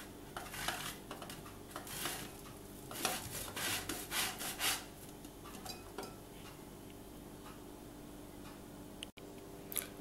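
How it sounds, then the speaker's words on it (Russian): Boiled eggs and cheese are rubbed over a long kitchen grater, giving a series of close scraping strokes in quick bursts, with light clicks and knocks against the grater and a quieter stretch near the end. "На такой вот терочке длинненькой натираем яйца и сырок"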